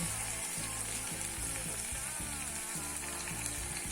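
Dudhi bhopla (bottle gourd) bhaji sizzles steadily in a hot pan as fresh coriander is sprinkled in, a constant close hiss with faint stirring scrapes underneath.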